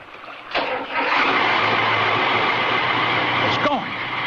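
A boat engine turns over and settles into a steady mechanical drone in an old radio drama, starting with a sharp catch and running loud and continuous before a brief clunk near the end.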